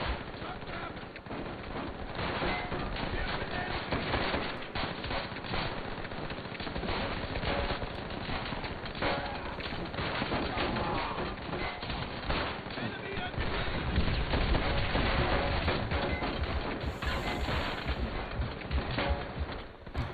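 Enemy gunfire in Call of Duty: World at War, a dense, continuous stream of automatic rifle and machine-gun bursts mixed with explosive thuds. It is loud and runs for the whole stretch, with a brief brighter burst near the end.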